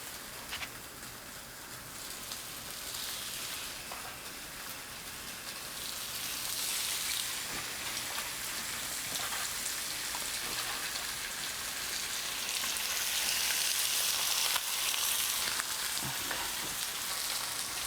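Chicken pieces laid sage-side down in a hot oiled pan give off a steady, fairly soft sizzle that swells louder partway through and stays constant with no talking.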